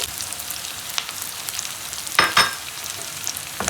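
Carrots are stir-fried in a pan for sweet and sour chicken with noodles, giving a steady soft sizzle with a couple of sharper clatters of quick stirring midway.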